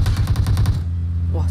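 Automatic weapon fire in PUBG Mobile, a loud rapid burst of about nine evenly spaced shots that cuts off abruptly, followed by low game ambience.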